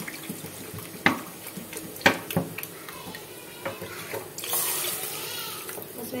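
Water poured from glasses into a pot of cooking mutton for bhindi gosht, with a few sharp splashes and clinks followed by a longer steady pour near the end, close and fairly loud.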